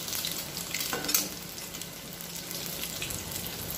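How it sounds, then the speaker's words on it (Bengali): Three pre-boiled eggs fry in hot oil in a pan for egg masala curry, sending up a continuous close crackling sizzle with light stirring and a brief sharper pop partway through. "আগে থেকে সেদ্ধ করা ডিমগুলো এবার আমি ভেজে নেব একটু লাল করে।"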